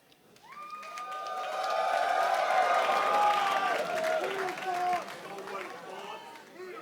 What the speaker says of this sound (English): sprightly crowd for the final game we have here of the day.